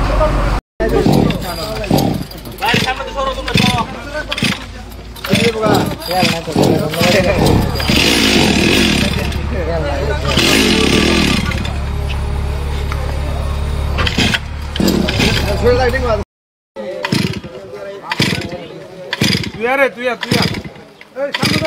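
An engine on disaster-management equipment roars and sputters for several seconds as someone tries to start it. Loud, agitated voices talk over and around the motor noise.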